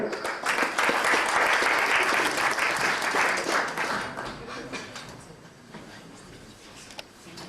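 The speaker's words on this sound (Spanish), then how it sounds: "Quisiéramos recibirlo con un fuerte aplauso" Applause from a lecture audience, loud and steady at first, then gradually thinning out and fading as the clapping winds down.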